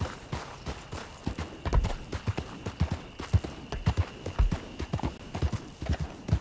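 Horse hooves clop steadily in the video game Red Dead Online, an uneven, close patter of hoof strikes continuing throughout with no talk heard.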